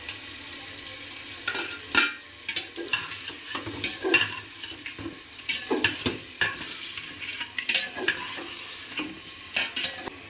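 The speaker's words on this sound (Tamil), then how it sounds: "தக்காளி சேர்த்துக்கிறேன்" Tomatoes added and stirred into a frying pan for vegetable biryani, with frequent uneven spoon scrapes and knocks over a continuous sizzling fry, heard close with no voices.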